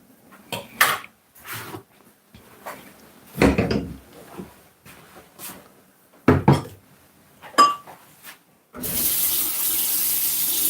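Tap water runs over a tilapia fish in a kitchen sink, heard in short splashing bursts before settling into a steady, loud, continuous stream near the end.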